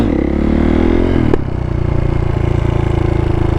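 A stunt motorcycle rolling in second gear during scraping practice, its engine a loud, steady, close drone with a sharp clack partway through and a slight dip before the hum settles again.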